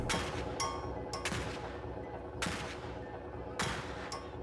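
Sharp gunshots crack at a shooting gallery in the video game Highly Likely, three or four spaced reports, each with a brief decaying tail, over a low steady game hum.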